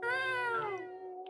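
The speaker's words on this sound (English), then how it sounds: "That's what my cat sounds like." A pet cat lets out one long, drawn-out meow, loud and close, with the pitch sliding downward before trailing off.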